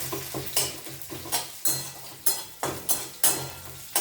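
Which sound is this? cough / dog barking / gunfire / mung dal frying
mung dal frying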